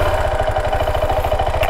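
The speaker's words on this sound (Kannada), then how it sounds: "ಇಂಜಿನ್ ಓಡ್ತಾ ಓಡ್ತಾ ಈ ಸೌಂಡ್ ಬರುತ್ತೆ." A KTM 390 Adventure motorcycle engine runs steadily at idle, a close, rapid pulsing thrum with a faint mechanical tick layered on top, alone and unbroken.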